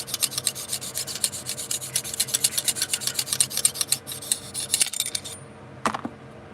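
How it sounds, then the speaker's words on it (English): A knife blade is drawn repeatedly across a sharpening stone, giving a fast, even rhythm of close scraping strokes that stops partway through, followed by a few light metallic taps. "This is the way you sharpen your knife."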